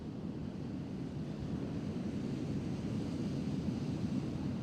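Strong wind roars steadily outdoors during a drone flight test, a low rushing buffet across the microphone with no voices, rumbling continuously throughout.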